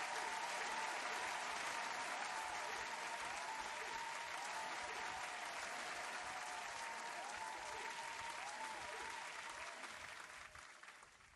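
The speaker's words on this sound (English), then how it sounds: "I'm gonna turn down the claps for you." Sustained applause effect on a livestream, a steady dense wash of clapping from a crowd that holds loud for about ten seconds before starting to thin and fade at the end.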